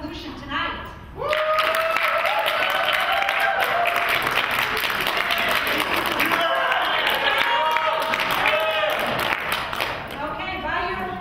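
A debate audience applauds to vote for the government team, a dense, steady round of clapping with some voices and cheers mixed in, filling most of the stretch before easing off at the end.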